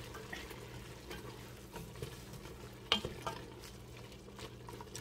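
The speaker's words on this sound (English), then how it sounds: "Mix it all up." A spoon stirring beef tripe soup ingredients with beef powder, salt and black pepper in a pot, soft steady scraping and swishing with one sharper clink near the middle, close and quiet.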